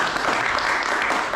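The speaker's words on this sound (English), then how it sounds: "Let's give it a clap." An audience at a festival class breaks into applause, a short burst of dense clapping heard near and fairly loud.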